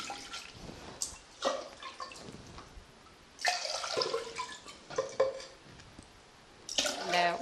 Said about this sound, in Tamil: இதுக்கு 5 அழாக்கு தண்ணி ஊற்றுறோம்.